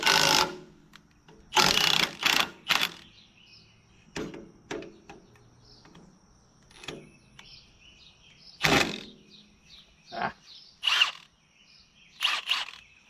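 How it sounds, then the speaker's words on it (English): Short bursts of an impact wrench hammering bolts loose on an Allis-Chalmers C tractor, several separate rattling blasts spread out over the span, with quiet clinks and handling noises between them. "I'm gonna use the impact as much as I can, because it's quicker than wrenching"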